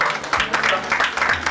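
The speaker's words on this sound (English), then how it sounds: "Let's give them a round of applause." An audience claps at an event, giving a short burst of dense, steady applause mixed with some voices.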